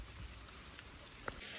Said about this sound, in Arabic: الدنيا قاعد تمطر